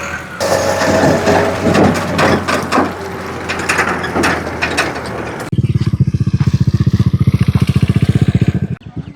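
A motorcycle creeps slowly along a muddy path beside a litchi orchard, with clattering mechanical rattles and knocks at first, then a close, loud, rapid engine putter pulsing evenly before cutting off.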